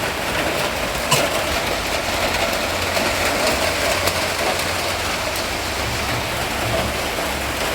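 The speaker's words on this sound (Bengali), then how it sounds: "এই যে দেখুন একদম বৃষ্টি শুরু হয়ে গেছে" Rain falls steadily as a broad, even hiss outdoors at a home, with a low rumbling hum underneath and occasional faint clicks; no voices are heard.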